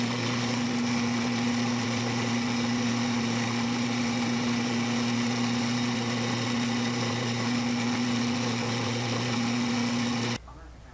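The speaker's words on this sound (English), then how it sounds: "what's next is to drill the eye sockets" A power drill bores eye sockets into a handmade bass swimbait lure, running as a steady close whine for about ten seconds before stopping.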